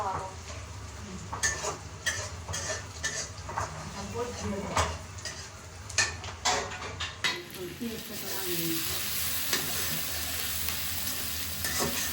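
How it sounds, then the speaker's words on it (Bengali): Ginger paste, onion and tomato fry in a pan as a soft, continuous sizzle, broken by sharp clinks and scrapes of a spoon stirring against the metal, with occasional voices nearby. "আদা বাটা আর হচ্ছে পেঁয়াজ আর হচ্ছে টমেটো আর একটু ভেজে নিই"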